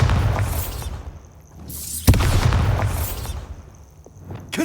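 Bombarda blasting spell exploding in a wizard video game: two large booming blasts, the second sharper and louder, each followed by a long rumbling, crackling decay.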